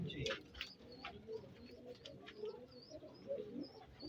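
Missay pigeons coo in low, repeated throaty phrases nearby while sharper chirps and other bird calls flick in and out, and voices seem to murmur quietly in the background.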